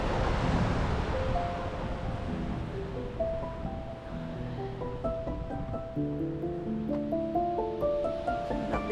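Ocean surf pounds against massive sea cliffs at the end of Birdling's Flat in Canterbury, a steady, broad roar heard at moderate distance, with a gentle melodic tune playing over it.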